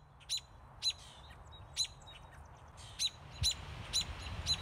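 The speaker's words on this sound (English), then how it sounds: "That's the sound of an angry mama bird." Sharp high chirps from an agitated mother bird near its nest, repeating about every half second, fairly steady and insistent, over a quiet low background hum.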